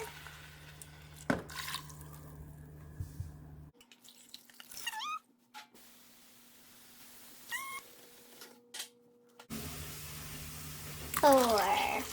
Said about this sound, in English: 1 mug of water right here.